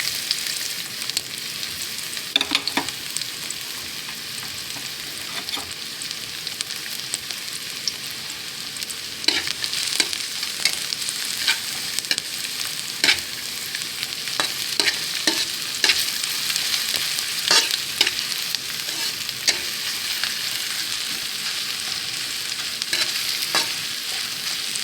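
Garlic sizzles steadily in hot oil in a pan while being stirred for an eggplant omelette, a continuous bright hiss broken by frequent scraping stir strokes, close and alone.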